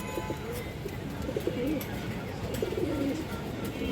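Pigeons at a Bengali fancy pigeon collection give soft repeated coos over a steady background murmur, with faint speech-like sounds mixed in.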